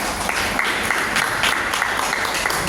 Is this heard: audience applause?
yes